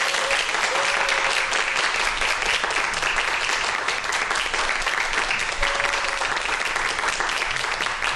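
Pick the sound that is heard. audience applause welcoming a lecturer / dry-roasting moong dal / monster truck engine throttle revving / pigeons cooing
audience applause welcoming a lecturer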